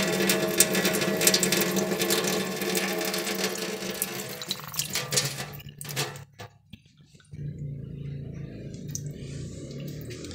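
Running water from a leaking pipe beneath a dripping gourmet faucet, a steady close splashing flow that drops away briefly near the middle, then resumes as a softer, duller trickle.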